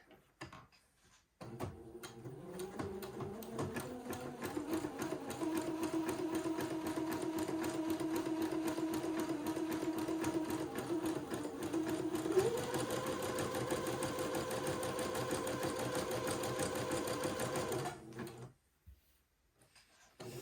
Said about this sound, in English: I'm going to set my machine to a zigzag, and then I'm going to finish off this particular little seam with a zigzag